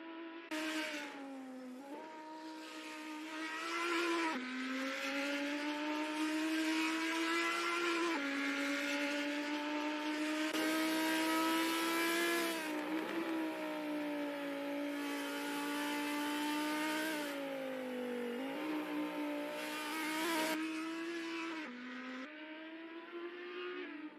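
An Audi race car in a virtual racing game screams along at high revs in a steady, loud engine whine, dipping briefly at each gear shift and braking point before climbing again.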